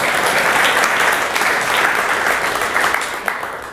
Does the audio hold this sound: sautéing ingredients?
no